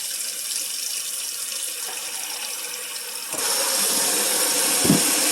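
Steaming hot water gushes from a tap in a steady broadband hiss, growing louder and fuller partway through, with a brief clunk near the end.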